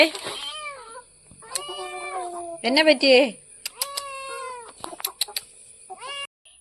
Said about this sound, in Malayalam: ഹായ് കുഞ്ഞു പൂച്ചേ